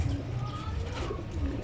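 Pigeons coo inside a loft, low soft throaty calls overlapping in a continuous murmur, close and moderately loud, with faint rustling around them.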